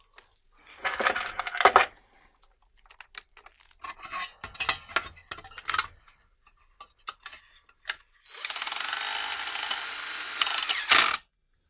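A DeWalt DWHJHLD clutch bit holder on an impact driver slips and spins freely, giving irregular metallic rattling and clicking bursts, then a sustained whirring spin near the end.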